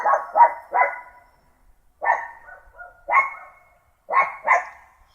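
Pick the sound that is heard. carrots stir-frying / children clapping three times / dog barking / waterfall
dog barking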